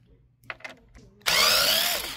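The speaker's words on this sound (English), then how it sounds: "we do have to unscrew these screws" A power driver whirs loudly and steadily as it backs screws out of a Bose Bass Module 500 subwoofer during a repair, starting abruptly after a few soft handling clicks and taps.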